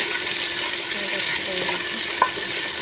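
Eggs fry in a pan with a constant close sizzle and a single faint clink near the end, with no talking.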